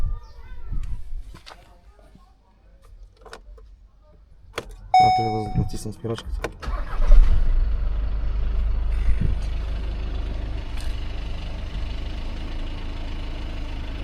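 A new car's engine cranks and catches on its first start, a brief whirring crank followed by a steady low idle rumble, while someone talks in Bulgarian before and during it.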